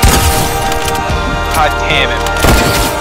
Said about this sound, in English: I didn't hear that over the gunshots.